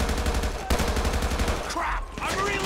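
Police rifle gunfire during a SWAT standoff in GTA 5 on LSPDFR patrol, rapid bursts of shots cracking in quick succession near the listener, with a sharp loud shot partway through and background game sounds.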